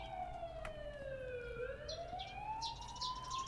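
An ambulance siren from the video game The Coma: Recut wails in long sweeping rising and falling tones at moderate distance, with faint bird chirps scattered in the background.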